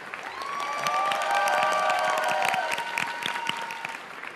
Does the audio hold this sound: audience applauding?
yes